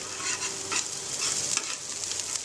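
Noodles stir-fried in very hot oil, with a steady dense sizzle and scraping stirring strokes close up, continuous and loud with no voices.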